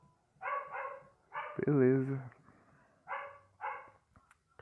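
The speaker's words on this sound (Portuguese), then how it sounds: "O cachorro tá louco lá." A dog barks in short bursts, two quick barks, a longer whining yelp, then two more barks. The barking is moderately close, with a voice speaking briefly in between.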